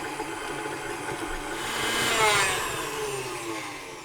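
An electric mixer whirs steadily as it whips butter cubes in a bowl. The motor hum is close and constant, swells a little in the middle, and plays without any talking.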